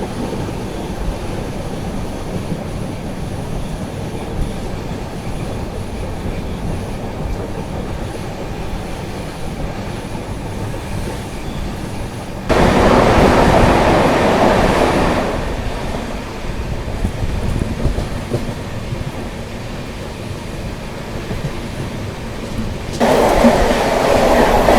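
The Chennai Central to New Delhi Grand Trunk Express rounds a curve, heard from inside a 2AC coach as a loud, continuous roar and rumble of wheels on rails that swells louder midway and again near the end.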